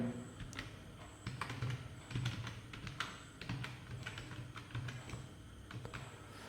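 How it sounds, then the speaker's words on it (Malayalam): A password typed on a computer keyboard while setting up a Jio set-top box as a PC: quiet, close, irregular clusters of key clicks and taps. "പാസ്വേഡ് നമുക്ക് ടൈപ്പ് ചെയ്യാം."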